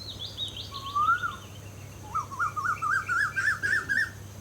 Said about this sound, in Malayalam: ഏത് ദിശയിൽ നിന്നാണ് ഈ കുഞ്ഞി കുയിൽനാദം വരുന്നതെന്നവൾ കാത് കൂർപ്പിച്ച് തല ചരിച്ചു